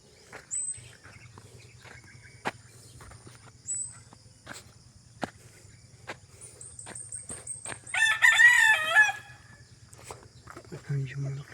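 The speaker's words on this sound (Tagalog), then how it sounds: "Ayan yung manok natin, oh." A rooster on a Philippine farm crows loudly once, a long warbling call close by, with scattered clucks and faint bird chirps around it and a low steady hum underneath.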